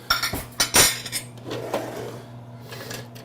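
Metal cutlery clinks and clatters against dishes in a few quick bursts, close by, followed by quieter rustling handling sounds.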